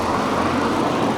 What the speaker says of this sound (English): Plenty of traffic.